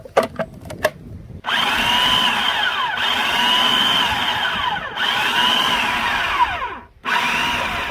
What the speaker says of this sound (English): Just like that, we're done with our grind.